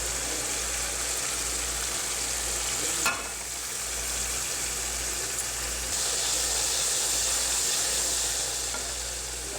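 Spices fry and sizzle in a pan with ginger, garlic, green chilli and tomato paste for brinjal bharta, a steady close hiss broken by a sharp stirring scrape near the middle, with no talking.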